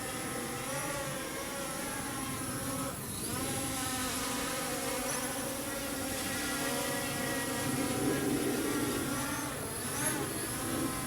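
A DEERC D65 GPS camera drone flies close by outdoors, its propellers giving a steady, insect-like whine with shifting harmonic tones that stays loud and unbroken throughout.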